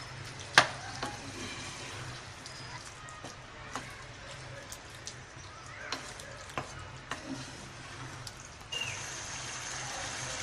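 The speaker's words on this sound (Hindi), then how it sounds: "अब अच्छे से इसकी भुनाई करेंगे कि टमाटर पूरे अच्छे से गल जाएं।" Minced keema and tomatoes fry quietly in a pan, with a soft continuous sizzle broken by scattered clinks and scrapes of a spoon stirring.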